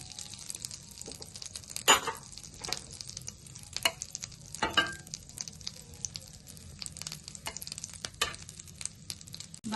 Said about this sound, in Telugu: 1 స్పూన్ బటర్ వేసుకుని కరిగించుకుందాం.